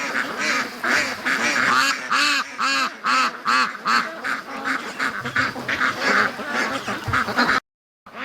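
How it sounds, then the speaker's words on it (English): Free-range ducks in a backyard quacking repeatedly and loudly at close range, a steady series of raspy calls in irregular bursts, with a brief silent cut near the end. "That's such a beautiful duck."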